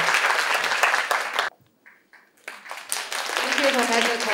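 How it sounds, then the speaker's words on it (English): Conference audience at a healthy-aging and biomarkers event applauds the speakers, loud dense clapping that cuts off abruptly, a brief near-silent gap, then applause swelling again with a voice speaking over it. "Let's give them another round of applause,"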